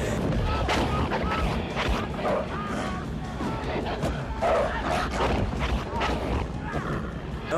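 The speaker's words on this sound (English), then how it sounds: "Where are these dogs coming from?" Several dogs bark and yip in a tense movie scene, their barks coming in close, loud bursts over a dense soundtrack with voices talking over them.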